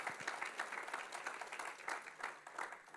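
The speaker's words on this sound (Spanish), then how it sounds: "Aplauda fuerte al Señor." A church congregation claps praise to the Lord, a soft, continuous wash of applause with rhythmic pulses running throughout, sounding somewhat distant and quiet.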